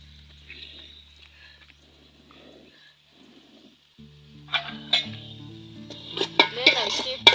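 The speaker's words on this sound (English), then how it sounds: "Then I keep on stirring." Stirring ugali in a cooking pot over a fire, with a quiet start and then clattering scrapes and knocks of the spoon against the pot that grow louder and busier toward the end.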